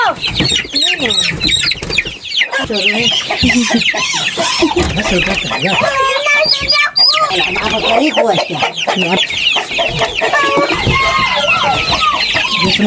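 A crowd of chicks and chickens in a new coop, continuous loud cheeping and clucking close by with overlapping calls and a faint rooster crow, some voices mixed in.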